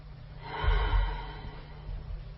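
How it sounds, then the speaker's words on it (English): A slow, audible breath drawn in during a breathing exercise for singing, rising to a soft peak then easing off, close and alone without speech. "And watch me when I breathe in."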